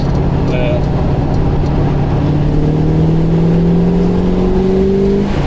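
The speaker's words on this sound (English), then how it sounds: "this is brand new engine" A classic car with a brand new engine revs loudly at a cars and coffee meet, the pitch climbing smoothly over several seconds while people talk nearby.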